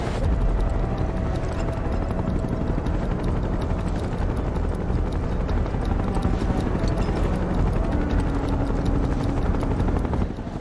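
Helicopters hover overhead in Final Fantasy VII Rebirth, a loud, continuous rotor chop and engine drone filling the whole stretch without pause, close and unbroken.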